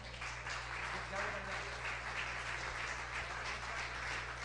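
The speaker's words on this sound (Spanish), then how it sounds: "Dele fuertes palmas al Señor." Clapping from a church congregation keeps a steady, fairly faint texture, with a low constant hum beneath it and a little murmured speech mixed in.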